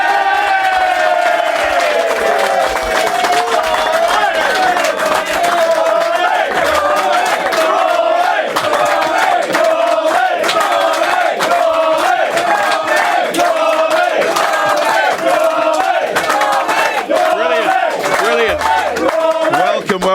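A large live studio crowd at the DPS Tech Arena roars and whoops continuously, loud and dense throughout with chanting-like swells and scattered yells.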